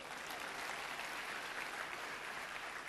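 Steady, dense applause from a church congregation, sustained and fairly loud throughout without pauses.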